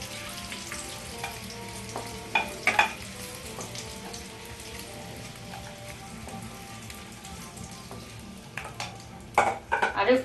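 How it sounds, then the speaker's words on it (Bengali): Steady sizzle of eggs frying in oil in a wok fills the background, with occasional clinks and scrapes of a utensil against the wok, louder near the start and end. "ডিমগুলো আমার লাল লাল করে ভাজা হয়ে গেছে"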